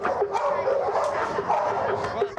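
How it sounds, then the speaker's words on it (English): Near, steady barking and yipping from trained guard dogs runs throughout, dense and continuous at moderate volume, with a voice mixed underneath. "We know how to train guard dogs."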